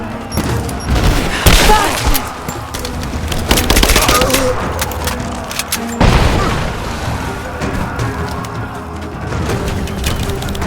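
Heavy gunfire and explosions in the video game Rise of the Tomb Raider, loud dense bursts of automatic fire and booms that build, drop away near six seconds and continue, with shouted voices mixed in.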